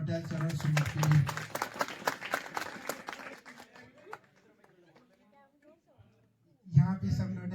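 Guests at a small gift-giving gathering clap loudly for several seconds, the applause thinning out into quiet before a voice resumes close by.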